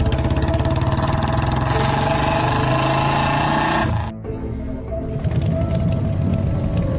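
Motorcycle engine running with a steady mid-pitched drone that cuts out briefly, then carries on at lower intensity, with no voices.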